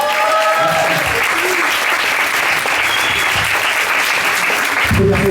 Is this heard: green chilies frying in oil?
no